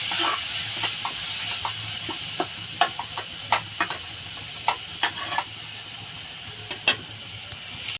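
Prawn malai curry masala fries with a steady low sizzle while a utensil scrapes and clinks against the pan in irregular, sharp taps spread throughout.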